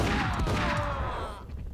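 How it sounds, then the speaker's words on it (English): Burst of gunfire hitting the player in Max Payne, a loud cluster of overlapping shots and impacts that fades toward the end of a brief moment. "You get shot."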